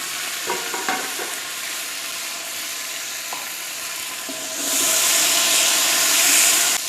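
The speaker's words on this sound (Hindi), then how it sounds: "इसको हमने ज़ीरे का तड़का लगाया है" Steady sizzling of cumin seeds tempering in a hot pan with a few clinks of stirring, the hiss swelling louder toward the end.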